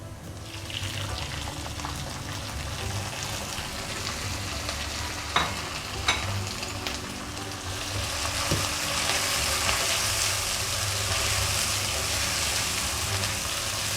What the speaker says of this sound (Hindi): अब इसमें डालते हैं हम टमाटर और हरी मिर्ची।